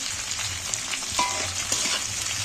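Onions and green chillies, added after ginger and garlic for a Bengali fish dish, sizzle steadily in a pan while being stirred gently, a constant close hiss with soft scraping knocks and no talking.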